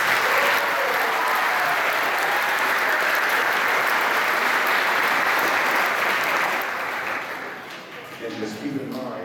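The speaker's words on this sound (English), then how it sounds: "I think they deserve a round of applause for that" Sustained, dense applause from a school band concert audience for eighth-grade middle school musicians, loud and steady for about seven seconds before thinning out, with a few scattered claps trailing at the end.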